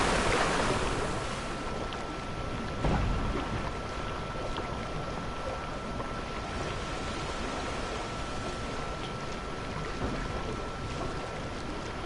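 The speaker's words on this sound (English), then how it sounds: "and splash down we go" A water ride in the Planet Coaster video game splashes down. A steady wash of rushing, surging water runs throughout, with a short splash early on.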